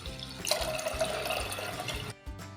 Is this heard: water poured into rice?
yes